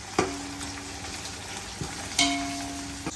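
Onions sizzling and frying in a pan for mutton biryani, stirred with a few sharp scraping clanks of the utensil against the pan over a steady close hiss.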